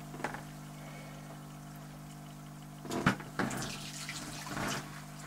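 Aquarium water siphoned through a hose into a bucket in a small tank clean, with a steady low hum throughout and a few short bursts of trickling, splashing water toward the end.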